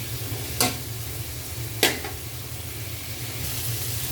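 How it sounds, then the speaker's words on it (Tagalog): Bitter gourd sautés in a pan with a constant close sizzle, punctuated by two brief scraping stirs of a utensil. "igisa na po yung ating ilalagay na natin ang ating ngayong ampalaya"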